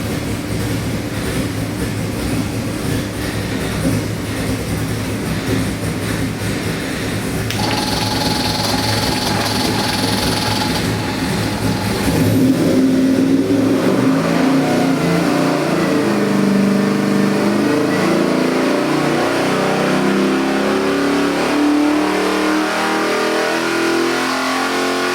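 A Marine LS 441CI stroker crate engine runs with a steady deep rumble, close and loud, its pitch shifting partway through as the idle settles lower and chugs.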